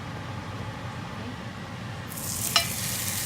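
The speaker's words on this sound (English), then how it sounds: "We'll put the first one down. You don't have to move it around, you just let it sizzle." Steady hiss of lamb chops frying in hot oil, a continuous crackling sizzle that brightens and intensifies partway through, with a brief sharp pop.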